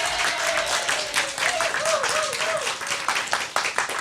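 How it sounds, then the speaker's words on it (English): Studio audience applauding and cheering on a TV talk show, a steady broadband wash of clapping throughout with a voice talking over it. "Give yourself a round of applause"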